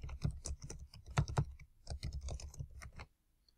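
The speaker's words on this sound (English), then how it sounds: "So I type that in the search box and hit enter." Quick bursts of keystrokes on a computer keyboard typing into a search box, close and crisp, in uneven clusters before falling silent at the end.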